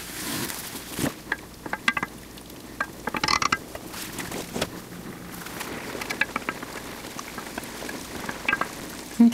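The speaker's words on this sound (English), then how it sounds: "I'm just going to let that simmer for just a few minutes, maybe 3 to 5 minutes, so it can thicken up" Keto creamy chorizo sauce simmers in a pan on an electric stovetop, giving a steady soft sizzle and bubbling with scattered pops and clicks, close and continuous.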